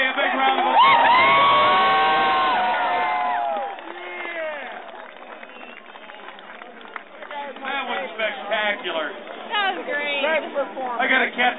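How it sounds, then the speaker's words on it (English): Crowd at a keg toss competition at the Washington Beer Festival 2011, loud cheering, whoops and shouting that swell then fade into mixed chatter and scattered yells, with voices talking throughout. "Give Dane from Elliott Bay a big round of applause"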